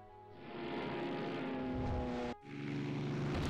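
A steady, droning aircraft engine from the naval strategy game Rule The Waves 2 holds a continuous hum with stable tones, breaks off briefly, then resumes at the same level.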